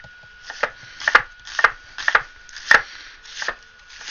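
Knife slicing an onion on a cutting board, about nine crisp, close chops in a fairly even rhythm, each a short sharp tap with no talk.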